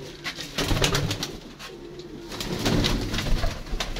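Pigeons cooing close by, soft repeated throaty calls overlapping in a low rolling rhythm, with no talk.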